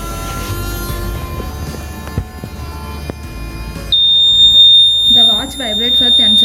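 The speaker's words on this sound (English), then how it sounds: "The buzzer makes a loud sound to alert the nearby people." A rape and accident detection alarm watch sounds its buzzer, a loud steady high-pitched electronic tone that starts partway through and holds to the end, with voices speaking over it.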